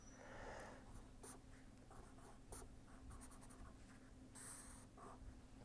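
A pen scratches across paper while sketching a diagram, a series of short close strokes and taps in irregular bursts over a quiet background hum.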